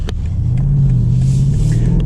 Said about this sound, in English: So this car sounds so much better in sport mode.